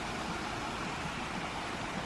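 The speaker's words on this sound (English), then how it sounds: "You can hear some mini waterfalls." Small waterfalls on the San Joaquin River produce a steady broadband rush of water, even and continuous, moderately distant with no other sounds.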